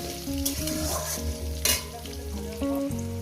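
Potato pieces fry in a pan, producing a close, continuous sizzle broken by stirring clinks and a brief louder scrape midway. Background music plays underneath and no one speaks.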